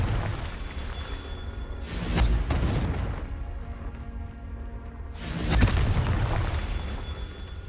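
Two loud, booming blasts from the Confringo fire spell in Hogwarts Legacy on PS5, each a broad burst with a rumbling tail, the first around two seconds in and the second near five and a half seconds, over a constant game ambience.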